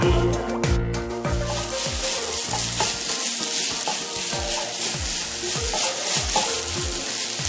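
Egg and snake gourd, Kerala-style thoran, fry in a pan under a loud, continuous sizzle while a utensil scrapes and stirs in quick repeated strokes throughout.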